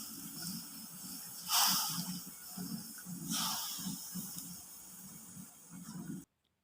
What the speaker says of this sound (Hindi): उबाल आ चुका है।